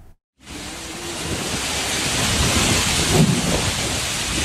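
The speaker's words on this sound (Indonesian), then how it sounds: "angin puting beliung yang disertai hujan deras" Heavy rain lashes down in a violent whirlwind storm with strong winds in Tapos, Depok, West Java, forming a dense, steady roar that swells slightly louder partway through.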